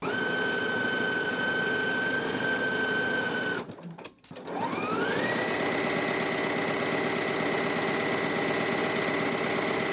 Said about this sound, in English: Now we can take it to the machine and stitch it in place